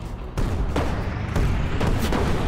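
Tank cannon shots in the Brick Rigs video game, a battle between Lego-style tanks: several heavy booming blasts in quick succession, loud and close, with no talk over them.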